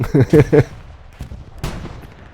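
Explosions and gunfire in the WWII shooter game Hell Let Loose: three loud, rapid booming blasts up front, followed by a sharp distant crack and a fainter rumbling burst, no talking over them.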